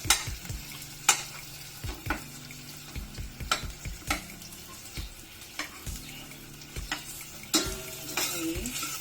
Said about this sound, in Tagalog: Igisa muna natin siya.